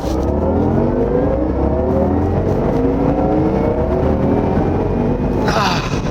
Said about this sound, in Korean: 지금 스포츠 모드로 변경을 했고요. 사운드가 변했습니다. 여기서 한번 풀가속을 해볼게요.